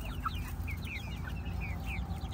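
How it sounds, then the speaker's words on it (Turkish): Many chicks peep in quick high chirps over a continuous low rumble of clucking hens, a busy, steady chorus close by. "Çok güzel civcivler ya."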